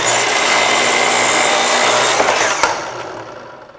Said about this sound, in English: With the slide arm saw, you'll get a nice straight cut.